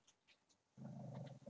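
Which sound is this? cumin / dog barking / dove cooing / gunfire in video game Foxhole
dog barking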